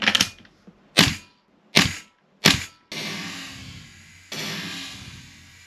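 Tokyo Marui MWS airsoft rifle fitted with an upgraded magazine fires three or four sharp, close cracks about a second apart, followed by a longer stretch of steady broadband hiss.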